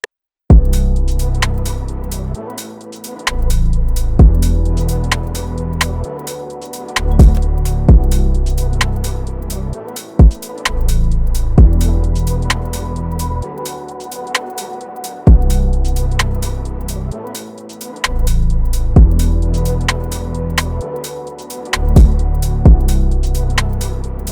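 A two-note synth lead from the Loveless Analog Lab bank, shaped with EQ and washed in reverb, plays over a steady, loud R&B beat with deep bass and regular drum hits for the whole stretch.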